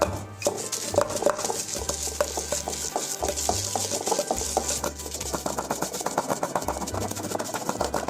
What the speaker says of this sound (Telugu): ఇప్పుడు ఇందులో పసుపు వేసుకొని మంచిగా పెద్దగా నూరుకుందాం